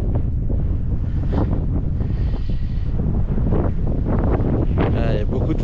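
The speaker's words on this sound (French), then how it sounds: "Il y a beaucoup de vent là." Strong wind roars and buffets the microphone at the Belvédère lookout of St Quentin sur Sauxillanges, loud, gusty and unbroken throughout, with someone talking intermittently beneath the rumble.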